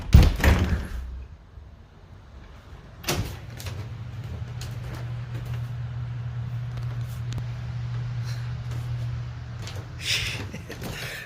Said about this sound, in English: the person knocking on the door would run off